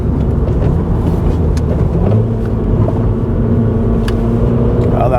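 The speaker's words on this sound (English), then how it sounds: "Sequentially changing down through the gears as you're braking." A car engine hums steadily under braking, its pitch dropping in a step as it downshifts to a lower gear, with continuous road and cabin rumble heard from inside.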